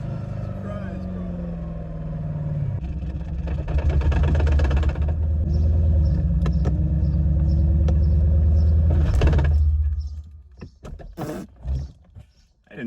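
A stick-shift Mercedes SL500 engine runs with a deep, steady rumble that swells louder midway, then cuts off into short bursts and scattered noises, with voices talking over it.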